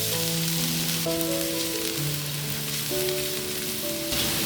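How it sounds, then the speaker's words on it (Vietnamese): Garlic frying in a large pan in a couple of spoonfuls of oil left from frying chicken, over medium heat: a steady, dense sizzle with faint tonal hums running beneath, no voices. "cho tỏi vào phi vàng lên"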